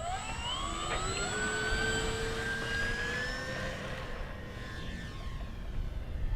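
A Dynam Spitfire MK.VB RC floatplane, 1200 mm span with electric power, takes off from water, its motor whining steadily higher as the aircraft pulls away. The pitch climbs and the sound fades with distance.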